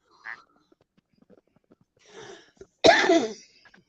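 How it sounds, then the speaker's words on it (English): A soft throaty noise, then a single sharp, harsh cough close to the microphone, amid near silence. "I got a cough again"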